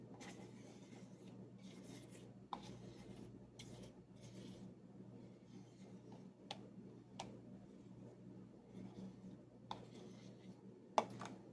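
A spoon scrapes the last bits of chia pudding from the bottom of a container, with soft repeated rasps and occasional sharper clicks over a steady low background hum, faint and close.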